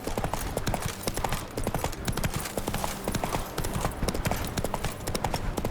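Roach, Geralt's horse in The Witcher 3: Wild Hunt, gallops with steady, close hoofbeats that clip-clop continuously throughout, beneath a busy layer of game ambience.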